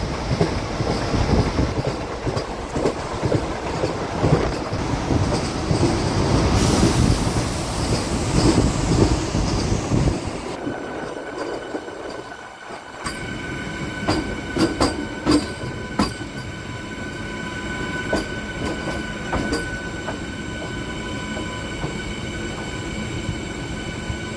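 A MEMU passenger train runs on rails between Rajahmundry and Bhimavaram, a steady loud rumble of wheels and carriage that dips briefly near the middle, then continues with thinner rattling and faint squeal tones.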